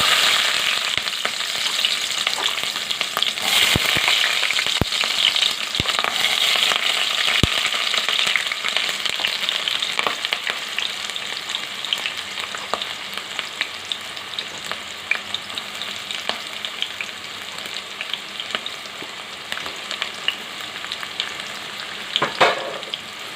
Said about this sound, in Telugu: ఇలా ఉల్లిపాయలు కొంచెం రెడ్గా అయ్యే వరకు వేయించుకోవాలి